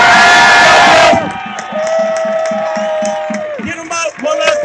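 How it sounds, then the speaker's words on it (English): A crowd at an anti-racism protest erupts in a loud, close burst of cheering and shouting, then settles into rhythmic group chanting with raised voices. "Give yourself a round of applause."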